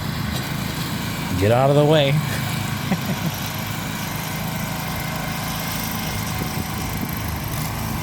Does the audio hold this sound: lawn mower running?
yes